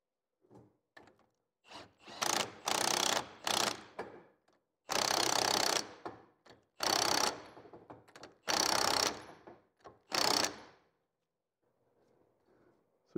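A driving tool tightens the pinion flange on a Ford 8.8 rear axle in loud, close bursts of ratcheting mechanical rattle separated by pauses, with a few quieter clicks.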